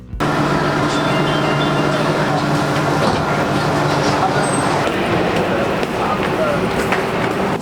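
A Shanghai metro train runs nearby with a steady, loud rumble and rail noise that fills the whole stretch evenly, with a voice speaking over it.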